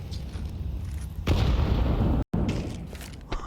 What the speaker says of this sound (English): Grenades landing towards Slimy.